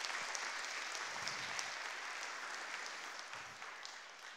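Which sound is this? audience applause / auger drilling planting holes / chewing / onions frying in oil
audience applause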